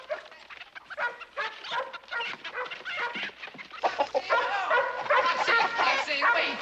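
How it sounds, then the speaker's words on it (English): A dog barks in sharp bursts around livestock, with chickens clucking nearby, all under excited talk and commotion. "Dog, Jamie, get the dog out of here."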